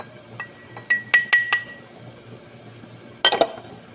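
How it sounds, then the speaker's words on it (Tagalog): Sugar tipped into a glass while making dough: a cluster of bright clinks and taps against the glass, then a pause and a final louder clatter, close and distinct with no speech. "Yung ating sugar, ilalagay natin sa baso."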